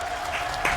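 A live esports crowd applauds at the Apex Legends ALGS Split 1 playoff finals, a dense wash of clapping and cheering that swells near the end.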